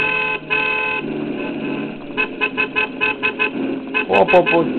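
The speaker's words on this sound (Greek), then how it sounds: "Έχει και κόρνα." A Kübelwagen car horn in the racing video game Gran Turismo 5 honks in a rapid series of short toots over a steady engine drone, fairly loud and close, with a burst of extra honks near the end.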